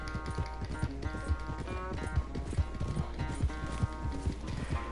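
Racing horses in Red Dead Redemption 2 galloping in a fast, steady rhythm of hoofbeats, close and fairly quiet, with occasional faint snorts.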